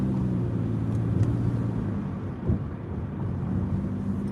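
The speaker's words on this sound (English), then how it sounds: "This damn car is loud." Loud car engine rumbling low and steady while driving, heard from inside with road noise and a brief surge of revving partway through, no talking.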